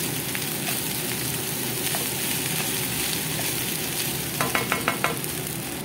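Fried rice sizzles steadily in a hot pan, a dense frying hiss close by, with a quick run of scraping stirs near the end.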